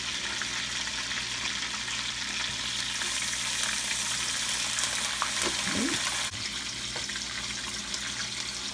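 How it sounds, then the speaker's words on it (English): Lemon juice hits a hot pan on an induction stove while making chicken piccata, a close, steady hissing sizzle that carries on for several seconds with a brief clatter midway. "And I'm gonna add our lemon juice."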